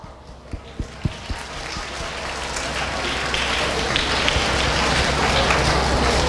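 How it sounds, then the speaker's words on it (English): Applause from a school morning assembly audience, starting as a few scattered claps and building into steady, dense clapping that fills the hall, fairly loud and without talk. "Let's give her a rare round of applause."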